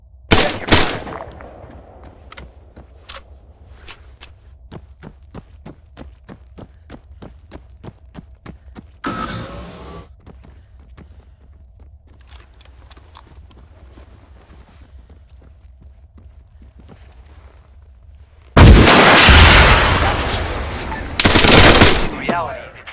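ArmA 3 gunfire rings out as a rapid string of sharp single shots, then louder sustained bursts later on, with a voice speaking between the volleys.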